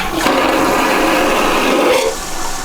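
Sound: toilet flush on a boat, like an airplane toilet

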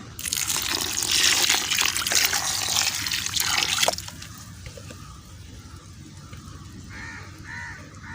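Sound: watering a potted curry leaf plant

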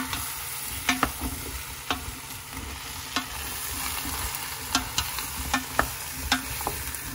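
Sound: zucchinis being tossed and browned in a pot

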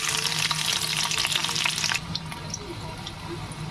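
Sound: garlic frying in hot oil in a wok

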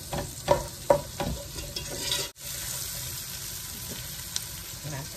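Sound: stirring and frying beef curry in a large pot

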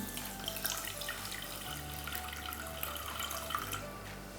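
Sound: water being poured onto sugar for syrup

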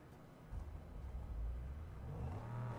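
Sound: car engine restarting and revving in Mad Max video game

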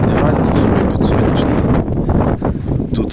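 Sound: strong wind blowing into the microphone

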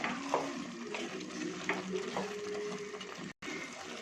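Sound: stirring garam masala into chickpea curry in a pan

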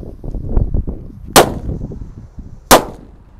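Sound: colorful thunder firecrackers exploding, two at once

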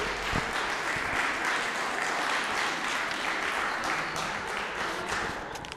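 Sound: audience applause at a concert

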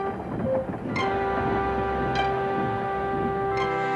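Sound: steam engine Gordon puffing along the rails

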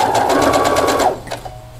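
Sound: sewing machine stitching a clamshell quilt

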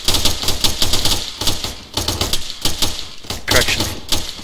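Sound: gunfire from a machine gun in a military video game

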